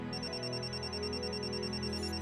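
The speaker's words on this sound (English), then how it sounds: "Let's use her phone number to call her phone." A phone ringing inside a TV cabinet in a Nancy Drew video game, a steady electronic ring tone with a repeating high warble that sounds continuously and clearly over the game's background ambience.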